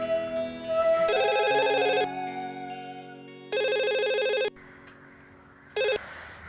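Telephone ringing in bursts, an electronic trill sounding three times with pauses between, clear and close, with no talk.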